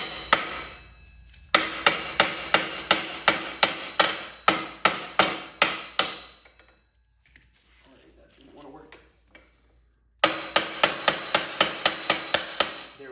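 A hammer tapping a pin out of a bicycle pedal on a Huck Cycles Stinger, two long runs of sharp, evenly spaced metallic strikes close up, split by a quiet gap with faint handling noise.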